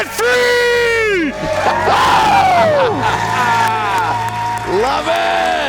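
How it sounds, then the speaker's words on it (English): A caller lets out a loud debt-free scream: long, rising and falling yells and whoops that carry strong overtones, with a brief break and a fresh shout near the end. "Let's hear a debt-free scream"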